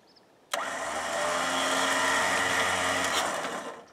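A truck-mounted winch pulls a cable taut against the base of a weed tree. Its motor kicks in abruptly and then runs loud and steady with a droning hum, easing off slightly near the end, with no talking.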